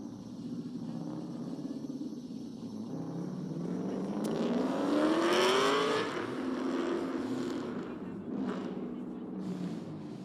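A Drift Easy Toyota Supra in a pro drift battle, its engine and tyres building into a loud rising wail as the car sweeps past, then fading, while a commentator talks throughout.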